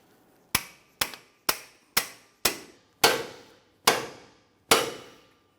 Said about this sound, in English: I'm going to continue on with a pickle fork and a hammer here